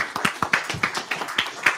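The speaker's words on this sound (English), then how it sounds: "Everyone give Troy a big round of applause" Scattered hand claps from a small group, uneven and close, a sparse patter rather than full applause.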